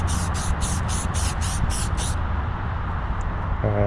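Eight quick hissing bursts of tire shine spray in a steady rhythm, close by, over a constant low background rumble, then the spraying stops.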